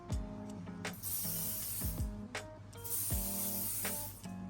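La Roche-Posay Anthelios sunscreen spray, containing titanium dioxide nanoparticles, released in two sustained hissing bursts of about a second each, close and fairly loud, over a soft tonal musical background.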